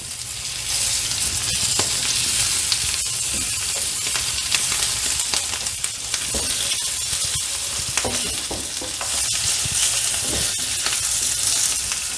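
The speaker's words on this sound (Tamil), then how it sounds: "இந்த மாதிரி நம்ம அடிக்கடி வந்து திருப்பி திருப்பி போட்டு அதை ஃப்ரை பண்ணிகிட்டே இருக்கணுங்க" Stuffed bitter gourd frying in a pan, a close, steady crackling sizzle with scattered pops and occasional clicks as the pieces are turned over.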